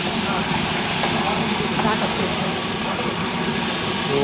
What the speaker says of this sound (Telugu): అది మరుగుతుంది ఇది మరుగుతుంది